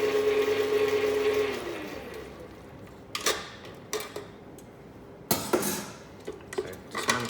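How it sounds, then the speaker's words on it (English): Pastry dough being scraped down inside a stand mixer's bowl after the egg goes in, giving a run of short, sharp scrapes and clatters from a spatula against the bowl, separated by quieter gaps, after a brief mixer hum at the start. "we will scrape down the bowl again"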